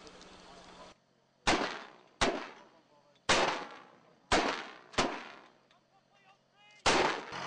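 Mortar rounds fired one after another during live firing practice on ranges in Kandahar, six loud booming reports at irregular intervals, each with a long rumbling decay, over a low steady engine hum.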